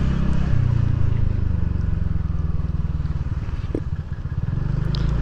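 A TVS Ntorq XT 125 scooter pulls away, its engine a steady close drone with low rumble and rising pitch throughout, loud and continuous with no voices.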